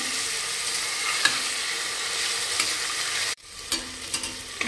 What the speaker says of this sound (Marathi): आता ह्या बटाट्याच्या फोडी तुपावर छान परतून घेऊयात।